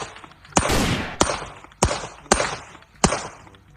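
A toy net gun firing, four sharp snapping shots at uneven intervals with short rushing tails after each, loud and close, no talking.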